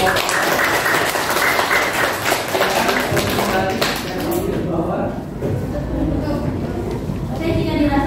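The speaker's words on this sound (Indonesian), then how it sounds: "kita beri aplaus untuk kelompok" A classroom of students applauds a presenting group during a teaching practice session, with brisk, close clapping that slowly thins out and voices talking over it.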